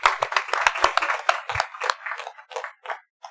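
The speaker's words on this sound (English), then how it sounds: "I think that deserves a round of applause." A round of applause in a council meeting chamber, a modest group clapping in sharp, distinct claps that start brisk and thin out toward the end, leaving a few scattered claps before fading.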